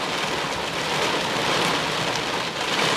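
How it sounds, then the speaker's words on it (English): Hail and rain pelting down during a severe thunderstorm in Dublin, Indiana, a dense, steady hiss of impacts filling the air, loud and unbroken with no talking. "Yep, we got that hail."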